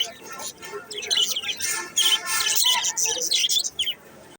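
Racing pigeons at a busy village pigeon market, their chirps and coos rising in bursts over the crowd's murmur while someone talks nearby.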